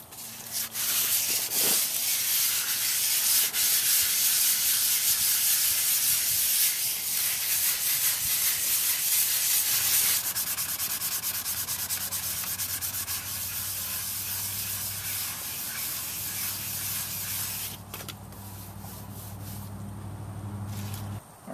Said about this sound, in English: I'm gonna wet sand it with some 600 grit just to get it smooth